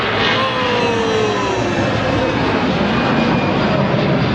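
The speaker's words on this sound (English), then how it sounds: "let's see some planes take off" An EasyJet airliner takes off at Gibraltar, its jet engines producing a steady, loud broadband roar that holds evenly throughout, heard alone without speech.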